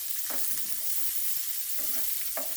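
Chopped onion and green chili fry with cumin in hot oil, giving a continuous close sizzle with a few short scraping stirs of a spoon in the pan.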